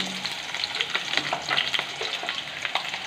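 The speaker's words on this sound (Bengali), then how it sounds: "তেল গরম হয়ে গেছে, টুকরো করা আলু দিয়ে দিতে হবে" Cut potatoes frying in hot oil, a steady close crackling sizzle with small irregular pops throughout and no voices.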